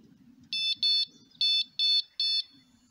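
Five sharp, high electronic beeps from a carp fishing bite alarm sound in quick succession, close and loud, with faint low rumbling between them.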